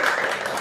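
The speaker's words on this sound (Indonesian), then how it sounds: "Tepuk tangan buat Kang Abu Marlo." A short burst of audience clapping at a talk session welcoming a guest speaker, steady and moderately loud.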